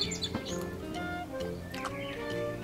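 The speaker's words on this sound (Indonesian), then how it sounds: "Kalau duduk keluar kayak gini, bisa dengar suara burung-burung." Small birds chirp in short, repeated calls outdoors, fairly faint behind a steady low background hum with no talking.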